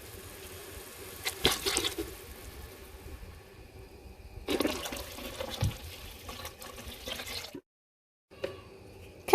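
Water pours into a pot of frying meatball soup base with a watery rush that comes in bursts and pauses, close and fairly quiet, with a short silent gap near the end.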